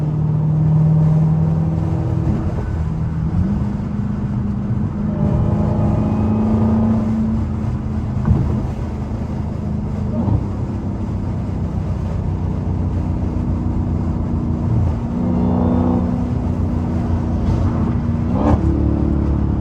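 A Dodge SRT Hellcat cruises down a busy freeway, its engine droning steadily from inside the cabin with several rising and falling pulls as the revs climb and shift.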